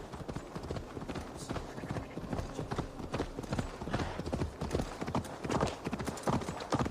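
Hooves clip-clop at a steady trot in the video game Assassin's Creed Valhalla, close and continuous, the rhythmic clatter of a horse moving along at an even pace.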